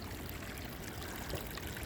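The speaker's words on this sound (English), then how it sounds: "There's a wee waterfall." A small waterfall trickles into a river outdoors, a faint, steady, broadband rush of running water with no voices.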